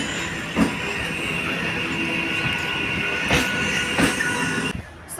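A Sealdah to BBD Bag local train running in Kolkata, heard from inside as a steady loud rumble with rhythmic clicks and occasional sharper wheel clanks, no talking.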